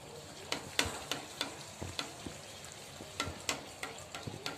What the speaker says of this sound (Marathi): आता मी सगळ्या पुऱ्या तळून घेते